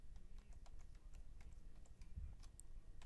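Quiet keystrokes tap on a computer keyboard as a command is typed into Rhino 6 modeling software, a light irregular clicking heard close over a faint low hum.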